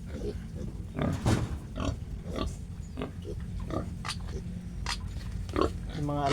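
Pigs at a Philippine backyard piggery grunting and oinking in short, repeated bursts at feeding time, close by, mixed with a person talking.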